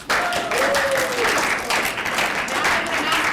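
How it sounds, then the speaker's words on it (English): An audience in a small communication workshop breaks into a round of applause, steady dense clapping that holds for the whole stretch at fairly close range. "Let's give them a round of applause"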